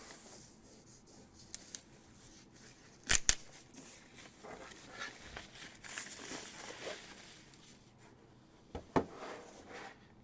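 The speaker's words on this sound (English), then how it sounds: "there's just some tape with the foam around the unit itself, so I'm just going to pull that off" Tape being pulled away from foam packing around an Xbox Series X console, a faint crinkly rustle with two sharp ripping bursts, one near the middle and one near the end, with no talking.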